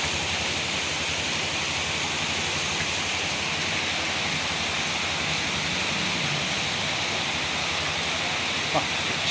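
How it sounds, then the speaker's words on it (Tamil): Heavy rain pours down in a steady, dense broadband hiss, loud and continuous without a break. "திடீர்னு சரியான மழை கொட்டு கொட்டுன்னு கொட்டுது"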